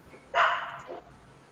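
A single dog lets out a short bark followed by a softer second yip, fairly close in a quiet room during a class.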